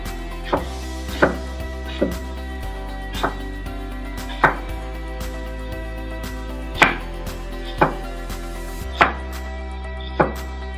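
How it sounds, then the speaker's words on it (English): A knife chops a white onion on a board in a series of crisp, separate strikes about once a second, close and clear with no talking over them. "So I'm gonna cut this onion up"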